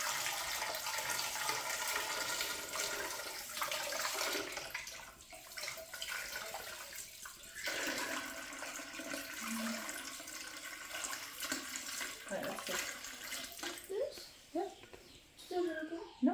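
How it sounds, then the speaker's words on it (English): Water pours steadily into a large metal pressure canner, filling it to the neck, a continuous rushing splash with a few voices murmuring now and then beneath it. "we're just going to fill the canner so that it's about up to the neck"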